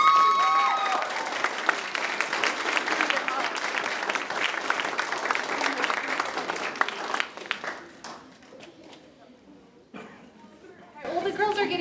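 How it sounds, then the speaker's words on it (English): Applause and crowd chatter for the Fiesta Days royalty contestants at an event, loud and sustained for about seven seconds, then thinning to scattered claps and murmurs before a brief swell at the end. "Let's give them a round of applause."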